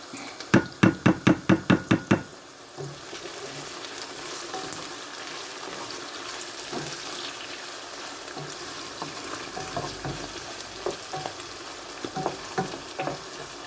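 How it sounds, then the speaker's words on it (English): Steady sizzle of chicken breast frying in a pan with fresh thyme, with a burst of sharp rhythmic knocks at the start and occasional clinks of utensils throughout. "While this is frying, I'm gonna put in my fresh thyme to go in there."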